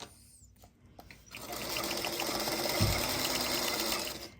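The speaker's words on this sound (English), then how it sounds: "when I'm sewing these segments together" A sewing machine stitches quilt block patchwork segments together, starting after a few soft handling clicks and then running as a steady, close, continuous whirring hum for several seconds.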